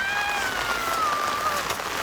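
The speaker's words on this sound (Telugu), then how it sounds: "మన 5 నిమిషాలు ఉన్నాగానే వాన కొట్టింది" Rain falls steadily, a dense, even patter of drops hitting surfaces close by with no pause. A faint thin whistling tone drifts in the background.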